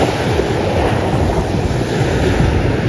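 Sea waves wash onto the shore at night, a loud, constant roar of surf mixed with wind buffeting the microphone, with no voices over it.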